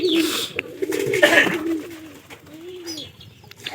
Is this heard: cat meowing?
no